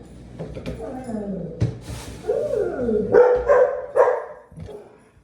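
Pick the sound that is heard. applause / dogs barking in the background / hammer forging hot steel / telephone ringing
dogs barking in the background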